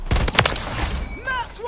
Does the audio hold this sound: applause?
no